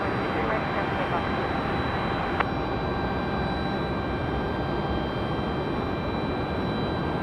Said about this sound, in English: The Delta CRJ coming at you from the right side of the screen